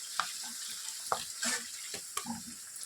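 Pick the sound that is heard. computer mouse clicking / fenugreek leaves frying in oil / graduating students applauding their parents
fenugreek leaves frying in oil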